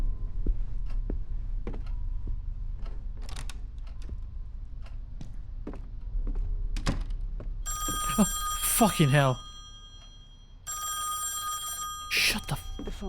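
Telephone ringing in the horror game Song of Horror: two loud electronic ring bursts in the latter half, following sparse footsteps and clicks, with a man swearing.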